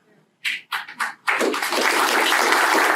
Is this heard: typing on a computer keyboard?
no